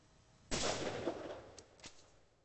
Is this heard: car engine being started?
no